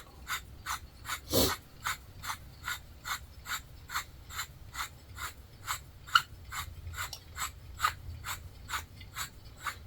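BLEKOO dowel jig being closed, a steady series of quiet, evenly spaced ratcheting clicks, about two per second, with one louder clack early on.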